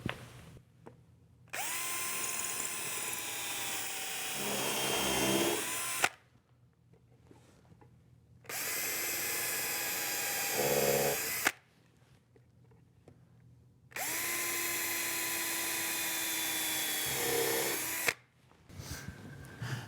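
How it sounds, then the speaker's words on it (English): A power drill whirs in three separate bursts of several seconds each while drilling pilot holes, its pitch dropping as the bit bites into wood, with short quiet pauses between. "while I drill the pilot holes"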